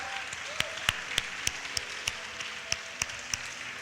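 A church congregation gives scattered applause, a few sharp distinct claps standing out over a soft, steady background wash of sound.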